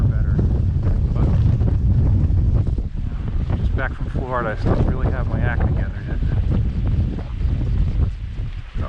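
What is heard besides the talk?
wind blowing while fishing from a boat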